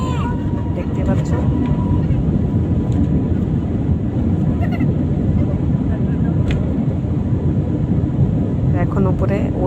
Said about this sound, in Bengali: টেক অফ করছে, আস্তে আস্তে প্লেনটা চলছে।